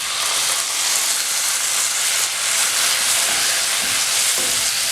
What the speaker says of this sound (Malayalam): ഇനി ഇതിലേക്ക് ഞാൻ അരച്ചു വെച്ചിരിക്കുന്ന തക്കാളി ചേർത്ത് കൊടുക്കുക.